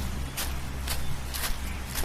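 Footsteps on a muddy path strewn with storm-fallen leaves during light rain, four soft regular treads over a steady low background hiss, alone with no talking.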